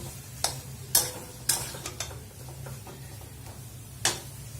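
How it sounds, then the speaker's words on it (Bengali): Boiled, mashed potatoes for a singara filling being mixed by hand, with soft squelching and a handful of sharp taps spaced out over a quiet, steady background. "এবার এটাকে আমি ভালোভাবে নাড়াচাড়া করে এটাকে মিশিয়ে নেব।"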